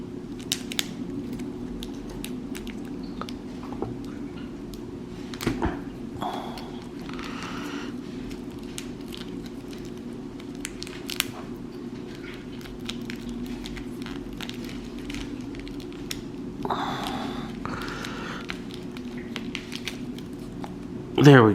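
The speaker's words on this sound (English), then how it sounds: "Let's get these plastic bits off." Plastic packaging pieces being pulled off a new S.H. Figuarts Naruto Uzumaki action figure: scattered close crinkles, snaps and soft clicks of plastic, spread over a steady low background hum with a few sharper rustling bursts.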